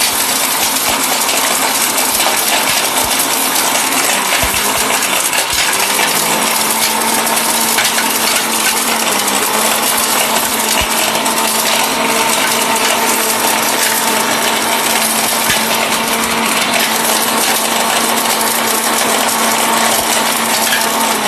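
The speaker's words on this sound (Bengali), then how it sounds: "হতেই হবে ভাই, এটা কমার্শিয়াল ব্লেন্ডার।" Commercial blender grinding whole turmeric roots, a loud, steady, dense motor roar with rattling and clatter of hard pieces throughout, close up and without talk.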